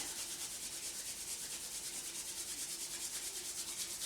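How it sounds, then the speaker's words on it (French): Hands rubbed together vigorously to build warmth before a Qi Gong self-massage, a steady close swishing friction that runs unbroken and alone without pause. "on commence avec les mains qu'on frotte vigoureusement jusqu'à ce qu'on sente de la chaleur dans nos mains"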